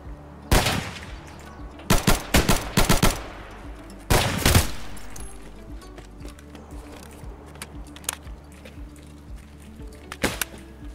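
Gunfire in Escape from Tarkov, a Scav's bolt action rifle among sharp bursts of loud shots in clusters, then sparser distant cracks and clicks over a low steady hum.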